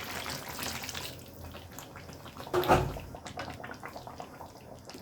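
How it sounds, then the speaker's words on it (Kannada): Water is poured into chicken gravy in a pan, a soft splashing gush peaking briefly in the middle over faint kitchen background, quiet and close. "ನಮಗೆ ಎಷ್ಟು ಬೇಕೋ ಅಷ್ಟು ನೀರು ಹಾಕ್ಕೊಳ್ಳೋಣ ನಾವು"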